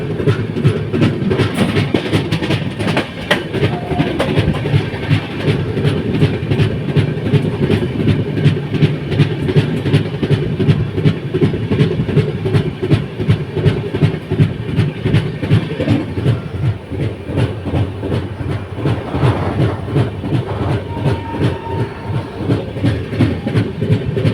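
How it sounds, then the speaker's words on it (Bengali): Padatik Express, running from New Alipurduar to Sealdah, rolls steadily past Jaugram station. A continuous loud rumble and rhythmic clickety-clack of the wheels carries on with no break for the whole stretch. "ট্রেন এখন ক্রস করছে জৌগ্রাম স্টেশন"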